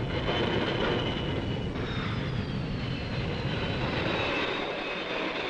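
Jet engines of F-4 Phantom interceptor fighters for the Fleet Air Arm roar steadily as a loud, continuous broadband rush at an air station.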